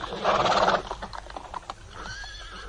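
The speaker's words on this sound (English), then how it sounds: "the horses pawed at the frosty cobbles" Horses whinny loudly and close by in a radio drama scene, then hooves clop and paw at frosty cobblestones in a short run of sharp knocks.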